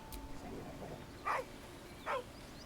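A wolf or dog in the video game Baldur's Gate 3 gives two short, separate barks, mid-loud, over a steady low game ambience.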